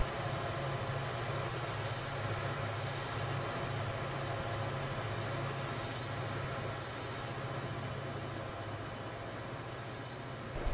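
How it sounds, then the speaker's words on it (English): An AI-controlled train passes in Train Simulator 2021, a steady, loud rolling rumble of rail traffic with engine drone that holds evenly for about eleven seconds, without speech. "We'll just wait for this AI train to finish passing."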